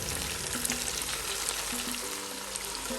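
Zucchini, carrots and bell peppers, 200 grams each, go into a pot of browned chicken, setting off a steady, close hissing sizzle of frying that holds evenly throughout, with a faint stir underneath.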